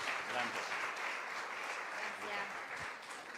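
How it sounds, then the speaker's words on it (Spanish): Applause from a church congregation at a women's gathering, steady clapping from many hands sustained throughout, fairly close and even in loudness. "La recibimos también con un aplauso"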